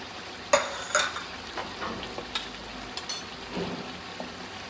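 Biryani masala, homemade spice mix and chilli powder being stirred in a pan, with a spoon scraping and clinking at close range over a soft sizzle.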